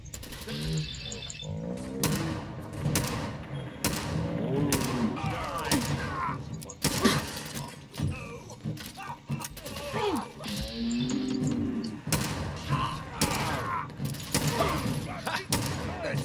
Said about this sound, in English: how many times do I have to shoot this guy?